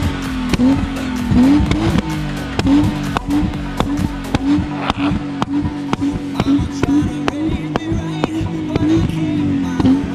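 A chip-tuned BMW M52B25 engine with a modified exhaust revs hard on sand, its tires spinning, with rhythmic surging pulses and sharp cracks repeating loudly throughout and no clear talk.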